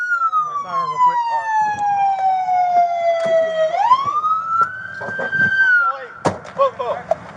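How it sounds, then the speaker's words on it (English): Police car siren during a traffic stop after a chase, a loud close wail sweeping slowly down then rising again, ending with short bursts and clunks, with voices talking underneath. "Siren real quick."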